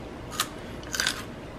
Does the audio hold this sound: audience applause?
no